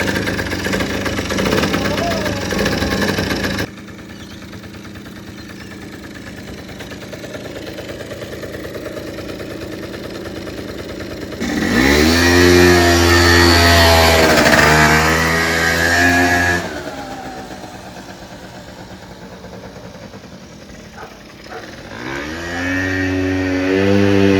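A pre-1967 Volkswagen Beetle engine is started on choke and revved, with a steady mid engine note rising into a loud surge, then easing back to idle and rising again, while people talk over it.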